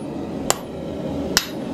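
A hammer strikes a hot-cut twice while forging steel for a door handle, two sharp, ringing metallic hits about a second apart over low workshop hum.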